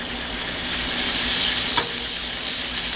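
Rosemary and garlic potatoes tossed with a small spoon in a pan over medium heat, a loud continuous sizzle and hiss with a faint scrape of the spoon, close and with no voices.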